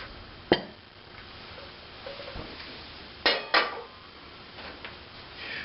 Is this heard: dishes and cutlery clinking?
yes